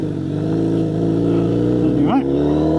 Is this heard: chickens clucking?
no